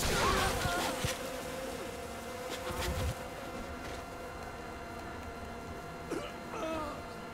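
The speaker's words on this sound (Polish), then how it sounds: "Pszczołami atakować." Insect-like buzzing from a swarm of attacking bees in Saints Row The Third, a steady drone with a few sharper bursts, moderately loud throughout.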